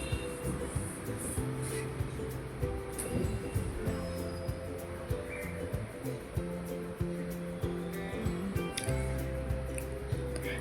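Custard apple pulp pressed and squished through a kitchen sieve, a steady wet squelching and scraping close by, with a low background hum throughout.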